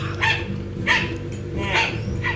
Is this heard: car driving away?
no